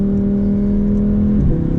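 A 2020 Lamborghini Huracan Evo drives a cool-down lap on a track, its engine holding a steady low drone heard from inside the car, then dropping in pitch as it shifts near the end.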